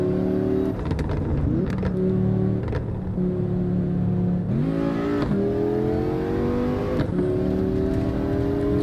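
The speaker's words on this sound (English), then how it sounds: "You can hear the turbocharger." Race car in the Assetto Corsa driving game, a loud steady engine drone that climbs in pitch with each acceleration, broken by brief sharp gear-change dips and a high turbo whine running over the engine.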